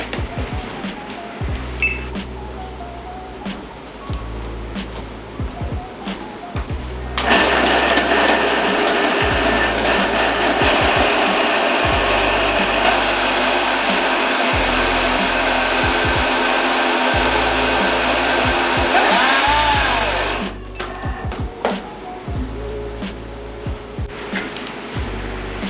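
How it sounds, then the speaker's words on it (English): A countertop blender whirs steadily for about thirteen seconds, blending purple kimchi ingredients with garlic, capers and rosemary. Quieter kitchen clatter comes before and after the run. "now we blend together"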